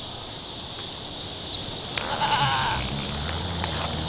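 Goats on a hot farm give a short bleat over a steady bed of insect-like buzzing and outdoor ambience, fairly close but brief.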